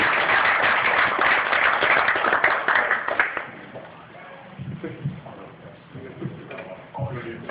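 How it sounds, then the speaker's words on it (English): A burst of dense clapping from a group at a high school soccer banquet lasts about three seconds, then fades into scattered claps and murmuring voices. "Round of applause for everybody for their team"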